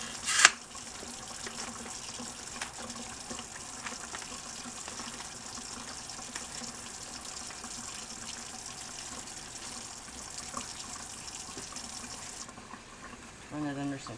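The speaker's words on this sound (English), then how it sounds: "Get some cold water running." Cold tap water runs steadily from a kitchen faucet over raw beef stew meat, a continuous moderate hiss with a splash at the start and a brief clatter near the end.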